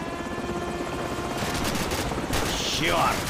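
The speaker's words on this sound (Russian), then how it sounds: "Черт! Вражеские вертолеты!" Enemy helicopters roar with bursts of gunfire in the Call of Duty 4: Modern Warfare video game, a dense continuous din of rotor noise and shooting with a rising whine near the end.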